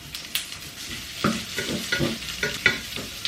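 Onions going into hot oil in a pan, giving a steady sizzle broken by several sharp scraping stirs spread across the clip, close and fairly loud with no talking.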